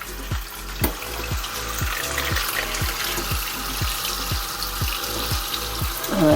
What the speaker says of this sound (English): gently rinse it with cold water.